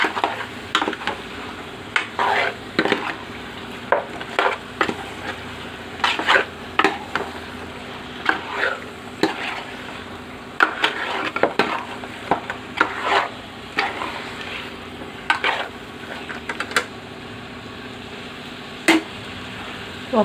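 Fish pieces coated in salt, turmeric and ginger paste are stirred in a pan for a fish curry, with repeated scraping clinks of the utensil over a low, steady sizzle throughout.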